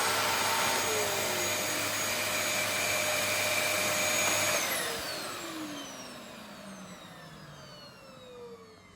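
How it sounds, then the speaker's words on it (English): A Dyson DC21 powerhead cylinder vacuum cleaner whines loudly and steadily, then powers down, its motor pitch falling away over several seconds until only a faint hum remains, with no voices. "the DC-21 is a fantastic powerhead cylinder vacuum"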